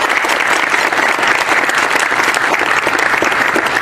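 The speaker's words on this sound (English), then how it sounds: "So let's give them a round of applause." Audience applause fills a school winter formal coronation, dense and steady clapping from a large crowd, loud and continuous throughout.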